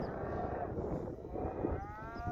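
A herd of cattle being moved on a cattle drive by working cowboys, with a dense, steady rumble of hooves and movement and a drawn-out low moo rising near the end.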